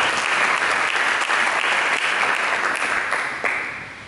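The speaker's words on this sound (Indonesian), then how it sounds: "Mari kita berikan tepuk tangan." A church congregation bursts into hearty applause in the middle of a sermon. The full, crackling clapping holds steady, then tapers off toward the end.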